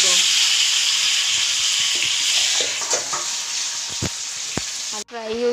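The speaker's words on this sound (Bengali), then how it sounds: "আলুটা আগে থেকে সিদ্ধ করা আছে, খালি আলুটা ফ্রাই হইব, এটা মাঝে হলদি লবণ দেওয়া হয়েছে" Boiled potatoes fry in a pan with turmeric and salt while fish head is prepared for a rice ghonto. A loud, dense hiss and crackle carries a few scrape knocks, then cuts off abruptly near the end, leaving a brief tonal sound.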